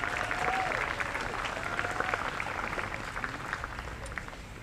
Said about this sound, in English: Let's give another round of applause to our Uncle Sam and Lady Liberty Award winners.